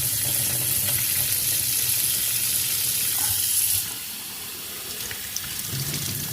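Hot tap water from a sink faucet, a steady loud hissing rush that drops to a softer flow partway through, with no voices.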